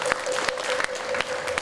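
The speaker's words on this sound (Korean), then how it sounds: "다시 한번 이 말씀을 하시는 분께 뜨거운 박수를 부탁드립니다." Applause from an audience at a Korean Buddhist Taego Order inauguration ceremony: steady clapping from a moderately sized crowd in a hall, even and sustained throughout, with a few sharper claps standing out.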